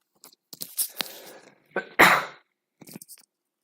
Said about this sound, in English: Oh, I sneeze.